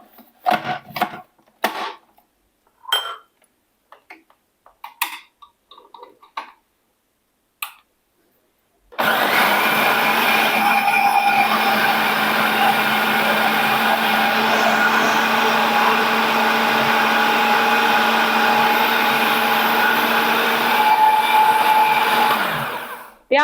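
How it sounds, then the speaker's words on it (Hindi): Electric chopper machine whirring steadily and loudly as it chops onion and chicken for momos, running continuously for about fourteen seconds after a stretch of quiet handling clicks and knocks, then winding down. "सबसे पहले मैं चॉपर मशीन को चला लूंगी"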